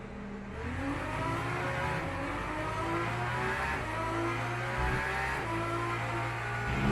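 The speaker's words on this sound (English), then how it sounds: "V12 engine sounds." A V12 race car engine in the racing game Le Mans Ultimate starts with a steady, layered drone, its harmonics rising and falling slightly as it idles and revs, loud and close throughout.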